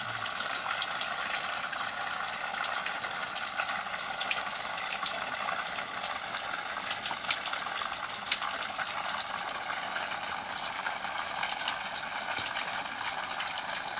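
Meltwater runs off a large icicle in a steady, hissing trickle and patter that stays even and moderately faint throughout, with no voices.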